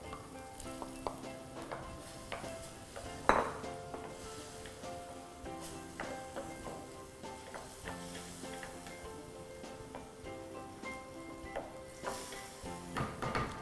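Tomato sizzles and crackles in a hot frying pan with continuous spitting, interrupted now and then by clinks and stirring knocks of a utensil against the pan.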